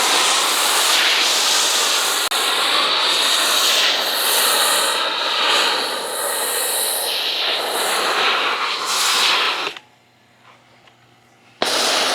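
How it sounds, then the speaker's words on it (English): A steady, loud hissing spray of foam onto the side of a car runs for several seconds with a pressurized sputter, cuts out into near silence, then bursts back on briefly. "we're gonna go ahead and foam up the side of the car"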